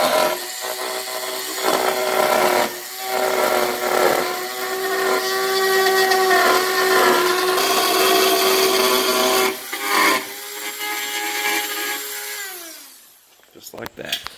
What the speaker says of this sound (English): You'll have to take a Dremel and cut this out.